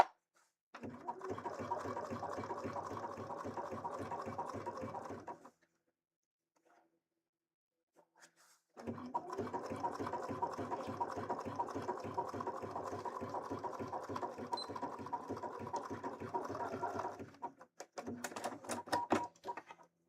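A home sewing machine without a walking foot stitches a seam in cosplay fabric, a rapid rhythmic clatter in two long bursts separated by a quiet pause, close and moderately loud, ending in a few short stitch runs.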